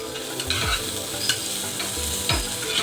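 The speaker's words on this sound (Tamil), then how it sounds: "இப்போ இது எல்லாத்தையும் வந்து நல்லா வதக்கலாம்." Cabbage and capsicum are stir-fried for mushroom noodles, with a steady sizzle in the pan and a few sharp spatula scrapes and stirs at a loose rhythm, up close with no talking.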